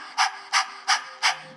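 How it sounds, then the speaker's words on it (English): Breath of Fire yoga breathing comes as four quick, evenly spaced breathy pants, close and crisp, with a soft tonal hum beneath them. "but as I'm panting"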